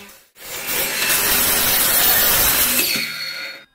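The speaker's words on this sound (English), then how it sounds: "I did it carefully to avoid danger using the miter saw" A miter saw makes a bevel cut through wood held in a jig: one sustained, loud, harsh cutting roar, then the blade winds down briefly before quiet.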